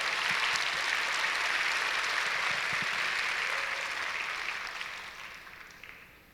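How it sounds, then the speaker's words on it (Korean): Congregation in a church claps together in dense, sustained applause that gradually fades out over several seconds. "자, 우리 박수 한번."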